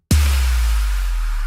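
Sub drop effect in a metal song breakdown: an abrupt, loud, deep low-end boom that hits at once and sustains as a heavy rumbling tone, alone with no other instruments.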